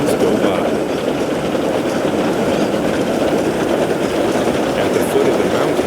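A steady, loud rumble of trains rolling past fills the whole stretch, with faint clickety-clack from the rails and no voices.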